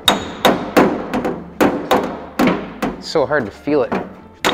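A hammer planishes sheet metal over a dolly on a door of a 1939 Zephyr chop, ringing out in a steady series of sharp, close metallic blows while someone talks between strikes.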